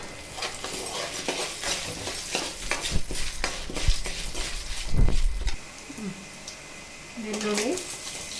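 Dry red chillies fry and crackle in a pan on a home kitchen stove, a soft sizzle broken by spoon stirs and clinks, heard under a voice talking throughout.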